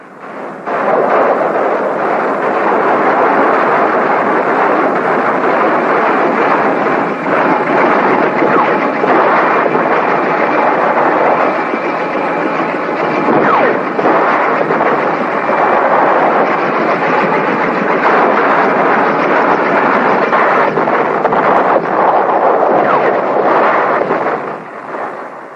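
Heavy artillery barrage at the Khe Sanh combat base, a continuous roaring wash of explosions and rumbling blasts with no pauses, loud and sustained throughout, with no voices.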